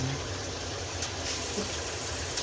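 High-pressure water gushes steadily from a household tap, a constant close rushing hiss with no voices over it.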